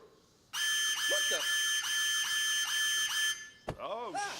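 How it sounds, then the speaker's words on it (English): A bathroom smoke detector blares in rapid repeated electronic beeps, loud and steady for about three seconds, then cuts off into a short warbling tone. "Fucking smoke detector in the bathroom."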